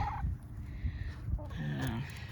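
Chickens calling close by on a homestead: a few clucks and a gobbling, warbling call near the end, with low rustling in the background.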